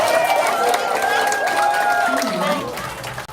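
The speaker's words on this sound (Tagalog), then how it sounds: "Masigabong na palakpak at hiyawan ang umalingaw-ngaw mula sa mga pamilya ng drug war victims" Families of drug war victims break into applause and cheering, a dense roar of clapping and shouting that swells and carries on for several seconds with voices mixed through it.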